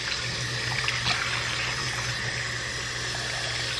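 Tap water runs steadily from a faucet as shampoo is rinsed out of hair extensions, a constant close splashing stream with no voices.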